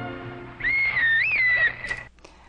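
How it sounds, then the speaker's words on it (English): A whistle blown in a film scene sounds once as a single sustained shrill note of about a second, wavering slightly in pitch, loud and close over a low background hum, then cutting off. "I'm going to split the video right after he blows the whistle."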